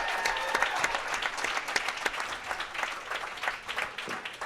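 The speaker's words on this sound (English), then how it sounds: "how about one more round of applause for our runners up from the South region" An arena crowd at a youth U12 bowling championship final gives a round of applause for the runners-up, sustained clapping that swells and fades slightly.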